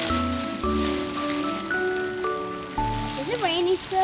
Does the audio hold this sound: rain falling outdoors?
yes